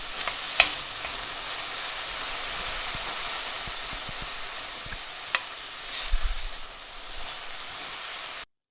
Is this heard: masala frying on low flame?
yes